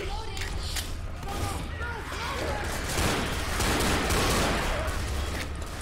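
Rapid gunfire fills the Left 4 Dead video game scene, a dense, loud, continuous clatter of shots that builds slightly toward the end, with no clear voices.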